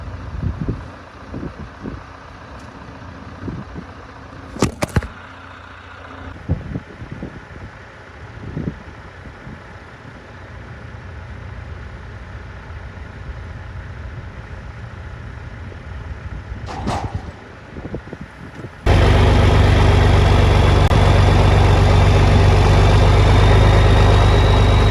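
A farm grain truck engine runs at a steady idle, loud and close, with some knocks and clanks over it before a sudden jump to a much louder, rougher roar near the end.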